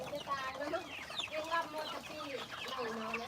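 Domestic chickens cluck in overlapping calls, close and moderately quiet, with people talking alongside.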